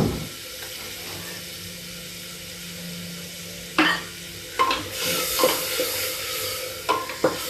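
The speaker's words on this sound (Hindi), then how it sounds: "अब इस मसाले को हम भूनेंगे।" Masala for a jackfruit curry with chicken masala and a little water roasts in a pan, a steady low sizzle with scraping stir strokes that grow sharper and more frequent in the second half, close and unaccompanied by talk.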